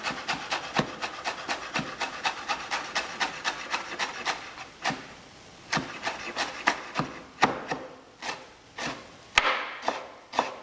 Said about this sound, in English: So cut the rest of this parsley.